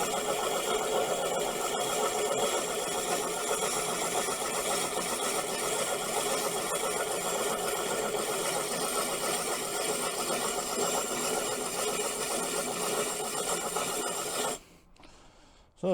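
A diamond core grinding disc grinds steadily down the bottom edge of a pot, a continuous loud abrasive rasp that holds for about fourteen seconds before cutting off abruptly.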